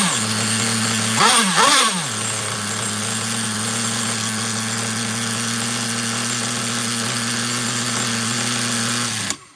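Nitro RC car engine idling on a bench, a loud close buzzing drone with a brief rising and falling rev blip early on, then a steady idle until it cuts off abruptly.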